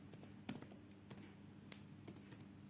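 Someone types a word into a browser search bar on a computer keyboard: a quick, uneven patter of soft key clicks with a few sharper strokes, heard close and quiet with no talking.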